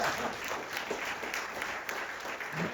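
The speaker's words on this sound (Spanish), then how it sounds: "Le vamos a dar un aplauso a la palabra de Dios." A church congregation gives steady, moderately distant applause during a Sunday service, a dense wash of clapping that holds evenly for a few seconds with no voices over it.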